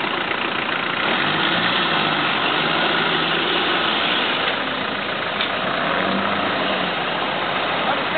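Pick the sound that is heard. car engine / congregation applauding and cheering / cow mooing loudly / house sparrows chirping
car engine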